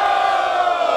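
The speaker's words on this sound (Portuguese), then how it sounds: "Barulho para as rimas do Trek!" A crowd at a semifinal rap battle in Barueri, São Paulo, cheering and shouting loudly and in unison as a sustained, close, roaring chorus of many voices.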